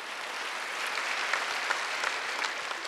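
Church congregation clapping during a Korean Wednesday worship service, a soft, even spread of many hands heard at a distance and fairly faint, with no voices.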